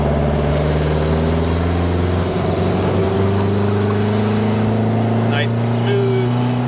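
1967 Volkswagen Beetle engine pulling steadily in third gear while driving, a loud continuous drone heard from inside the car, rising slowly in pitch, with a voice speaking over it.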